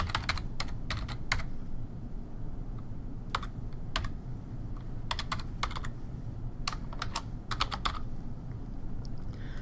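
A computer keyboard clicks in quick clusters of keystrokes, with short pauses between bursts over a low steady room hum; nearby and moderately quiet.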